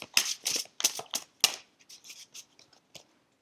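Large oracle cards being shuffled in a series of sharp, papery riffs and slaps, loud and close at first and then trailing into softer, scattered flicks, with no talking.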